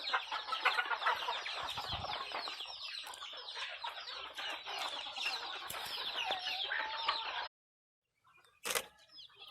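Chickens on a farm cluck and squawk continuously in a dense chorus of overlapping calls, then go abruptly silent, with a brief sharp noise near the end.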